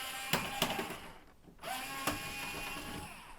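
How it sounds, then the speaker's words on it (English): A screwdriver works loose the screws of a vertical graphics card mount inside a PC, giving a few sharp ratcheting clicks and metallic scrapes at close range, with a short pause partway through. "You guys can see the screwdriver in action now."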